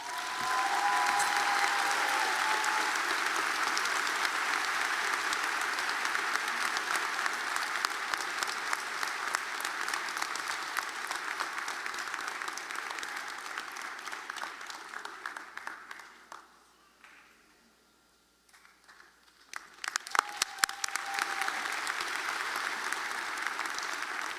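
A large crowd applauds at a college commencement ceremony, a long steady roar of clapping that dies away briefly, then surges back loud for another round.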